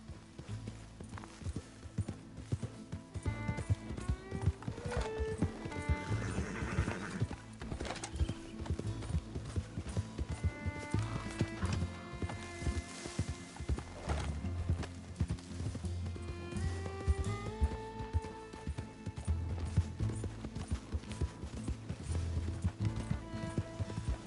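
Horse hooves clip-clop in a rhythmic gallop in a PS4 video game, with occasional neighs over a continuous game music score, steady throughout.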